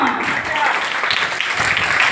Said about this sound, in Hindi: अद्भुत अद्भुत तालियां